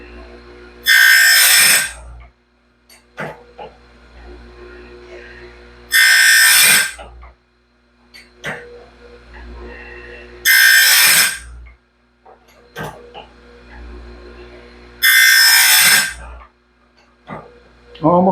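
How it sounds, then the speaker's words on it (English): Grinder sharpening the teeth of a homemade sawmill band blade, four loud, bright grinding bursts at regular intervals with quieter clanks and handling noise between passes, close up. "Got to be careful grinding the last one just before the weld seam"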